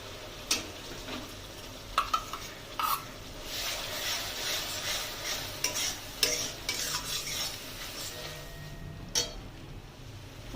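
Coconut paste goes into a simmering crab malai curry and is stirred in, with repeated spoon clinks and scrapes against the pan over a continuous gentle sizzle.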